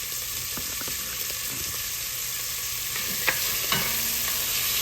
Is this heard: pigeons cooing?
no